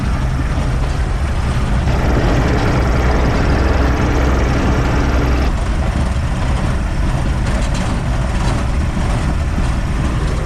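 A Toyota Land Cruiser HJ45, with a leaking Welsh plug and little power, drones loudly from inside the cab while driving, a steady low engine rumble mixed with road and cabin noise that shifts slightly midway.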